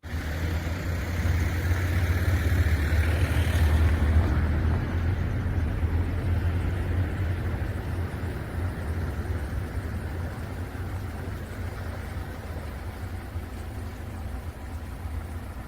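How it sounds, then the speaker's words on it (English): Heavy engine rumble from a truck passing outdoors on a morning in São Martinho do Porto, Portugal, steady and fairly loud throughout, swelling slightly in the first seconds and then holding as a continuous low drone. "sorry about the truck noise there."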